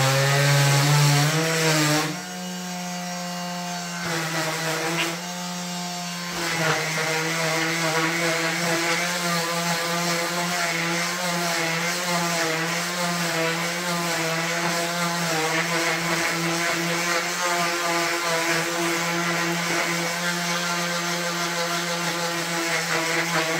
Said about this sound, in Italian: Se io sento che la levigatrice si sforza, sto premendo troppo.